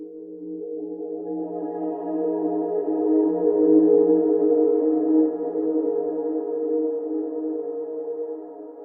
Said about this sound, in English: resample these and with some reverb and delay turn these into ambient